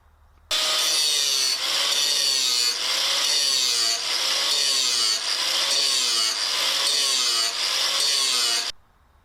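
A John Deere X750 mower blade ground on a grinder to balance it: a loud, continuous abrasive rasp held for about eight seconds, with slight rhythmic surges as the blade is worked across the wheel, no talking.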